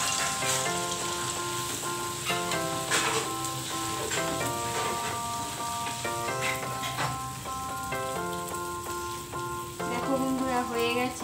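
Flattened rice (chire) frying in hot oil gives a steady, dense crackling sizzle that stays loud and close throughout, with ringing tonal music playing underneath.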